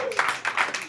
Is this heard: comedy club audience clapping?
yes